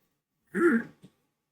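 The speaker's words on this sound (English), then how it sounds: "Sorry for clearing my throat." A single short throat clearing close to the mic, followed by a tiny second rasp, then silence.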